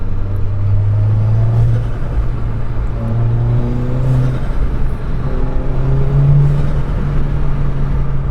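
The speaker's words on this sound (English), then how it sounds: "let's put some load on the engine and let's see if hopefully the microphone will pick up any sounds from the intake" Volkswagen Golf R MK7.5 turbo engine pulling under load in third gear from about 3000 RPM, fitted with an aftermarket intake, turbo inlet pipe and turbo muffler delete, droning steadily with rising harmonic tones as revs climb, with faint turbo whir.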